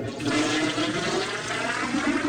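An automatic toilet flushes in the video game Journeyman Project Pegasus Prime, a loud, steady rushing of water that fills the whole stretch without any voices.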